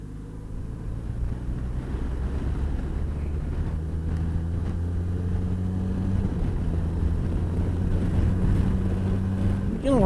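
A Benelli TRK motorcycle accelerates along a wet road, its engine drone strong and steady under heavy wind buffeting, with the engine pitch climbing gradually through the run.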